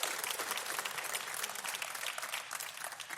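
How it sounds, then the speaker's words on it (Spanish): A church congregation claps steadily and continuously, a dense wash of applause at moderate distance with no voices standing out. "Dale un aplauso al Señor."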